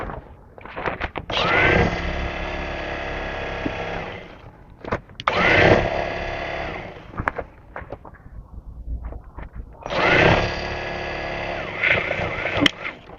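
A sewing machine stitches the side seams of a salwar in three loud, steady bursts of whirring, separated by short pauses with light handling noise.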